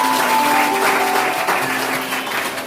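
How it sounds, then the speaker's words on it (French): A crowd at a community group gathering applauds the group's founder, a loud, continuous rattle of many hands with faint voices mixed in beneath. "Applaudissez, s'il vous plaît."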